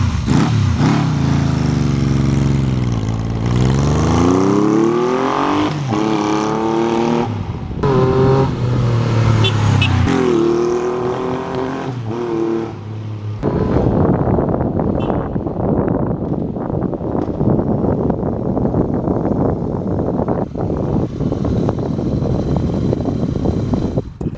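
A 1978 Yamaha XS750 triple motorcycle runs loud and close on a ride, its engine revving and changing pitch through rising accelerations before settling into a steady, rough cruising drone with wind noise over the microphone.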